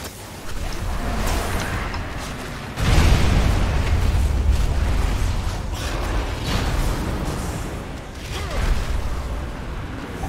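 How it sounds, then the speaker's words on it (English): Bombs explode during a heroic World of Warcraft raid, with a loud boom that jumps in and then a sustained rumbling roar and crackling game effects, dense and continuous throughout. "Bombs, get out."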